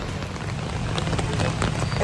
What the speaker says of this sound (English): Rain is getting hard now.